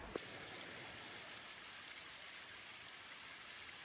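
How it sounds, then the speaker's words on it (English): A waterfall pours down a gorge along a mountainside road near Keuka trail, a steady loud broadband rush of falling water that never lets up, with no voices. "we got a pretty banging waterfall right here"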